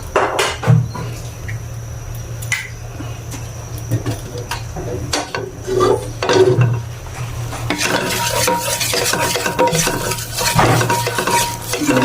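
Food is stirred and sautéed in a pan, with repeated sharp scrapes and clinks of a utensil against the metal over a low sizzle, growing busier and louder toward the end.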